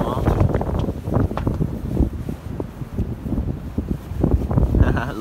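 Strong gusting wind buffets the microphone at a stormy hammock campsite, rumbling in uneven bursts while a person talks over it.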